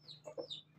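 A Satria Sinekti rooster gives a brief, soft cluck, a couple of quick clucking notes, heard close and alone.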